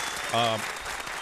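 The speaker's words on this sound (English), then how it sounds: "Give round of applause for that, please" An audience at a talk on natural healing claps briefly, a short soft patter of applause partly covered by a voice speaking over it.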